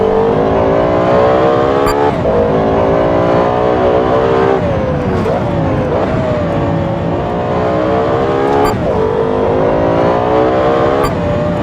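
A Lexus LFA road car on cold tires revs hard and accelerates through several gear shifts, its high-pitched engine wail loud and close, climbing and dropping at each change with no talking over it.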